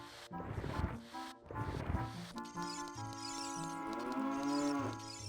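Synthetic, game-style cow moos from The Legend of Zelda: Ocarina of Time sound twice in drawn-out low calls, followed by a sustained tonal musical drone with a wavering pitch.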